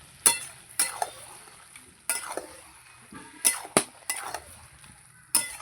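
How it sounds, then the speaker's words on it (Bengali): A spatula stirs cabbage cooked with a katla fish head in a pan, wedding-feast style, producing sharp metallic clinks and scrapes at irregular intervals over a faint low background, close and without talk. "এবার আমি ভালো করে আবার নাড়বো মাঝে মাঝে একটু নাড়তে হবে নালে নিচটা লেগে যাবে বাঁধাকপিটা"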